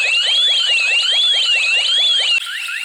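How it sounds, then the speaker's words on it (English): A Ring Alarm base station siren in a home security system sounds loud and close, a piercing tone warbling slowly up and down over a rapid pulsing buzz, steady throughout. "On the side, you have speakers again, which are used for the siren once the device is triggered"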